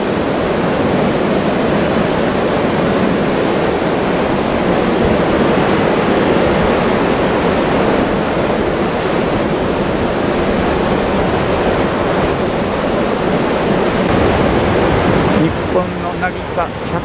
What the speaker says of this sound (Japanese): はい、綺麗な海岸ですね